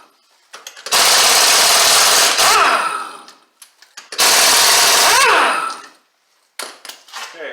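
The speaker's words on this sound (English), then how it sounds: "taking off the left front wheel" Power tool spinning lug nuts off the left front wheel of a 2009 Kia Borrego, two loud sustained whirring bursts of about two seconds each, with brief clatter between and after.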